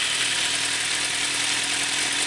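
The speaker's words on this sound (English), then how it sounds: "fire up the bike" A Kawasaki Z1000 motorcycle engine idles steadily after start-up, with a constant, even mid-pitched hum and a broad hiss, close and unchanging throughout.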